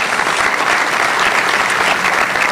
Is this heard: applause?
yes